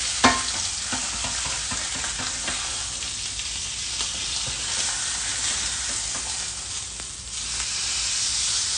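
Meat searing loudly in a hot pan, with a dense continuous sizzle and hiss running throughout and faint scraping moments, close and steady without speech.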